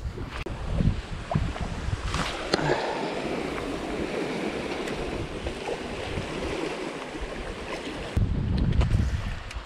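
Steady wind roars across an open microphone outdoors on the coast while sea bass fishing, mixed with lapping water and occasional gusty buffets.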